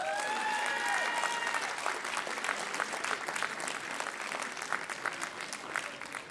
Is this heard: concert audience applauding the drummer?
yes